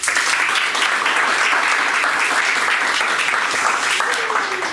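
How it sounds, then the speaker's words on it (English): An audience breaks into loud, dense applause during a health presentation on colds, flu and allergies, the clapping a steady roar that fills the room without a break. "Why don't you give her a round of applause?"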